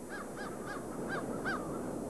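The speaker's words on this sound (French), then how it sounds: "Le langage des corneilles est particulièrement développé. On a déjà répertorié une vingtaine de cris ayant chacun sa fonction." Carrion crows call about five times in a steady rhythm, with harsh, nasal caws carried over a constant wash of outdoor background noise.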